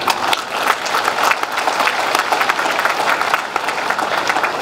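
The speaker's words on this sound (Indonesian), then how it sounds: "Mari kita bagi satu lagi tepukan." Sustained applause from an audience at a military passing-out parade for young army recruits, dense clapping that holds steady and loud throughout without pause.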